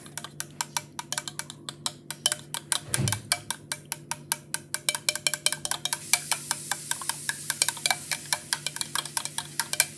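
Food is stirred in a pot with rapid, rhythmic metallic scraping and clinking. A utensil strikes the pot again and again at a steady fast pace over a faint background hum.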